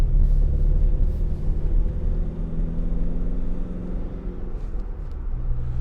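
A 2019 Ford Transit Custom 2.0 TDCi 300 L2H1 Trend van pulls away under acceleration, heard from inside the cab as a steady loud low diesel rumble. The engine note rises slowly, then drops near the end.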